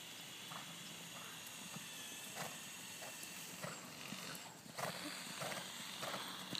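A horse trots around an arena during a schooling session, its hoofbeats faint and evenly rhythmic beneath a steady background hiss.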